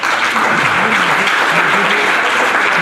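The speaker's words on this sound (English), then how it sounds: "So, let us thank our panelists with a big round of applause." Steady, dense applause from a conference audience for a panel at a Hindu organizational session, loud and continuous throughout, with a faint murmur of voices beneath.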